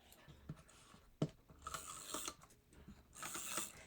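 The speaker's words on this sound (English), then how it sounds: "So I'm going to use my tape runner," A tape runner lays adhesive along a 4 by 5 1/4 inch piece of checked cardstock, giving faint, quiet ratcheting clicks and soft rubbing in several short bursts, with no talking.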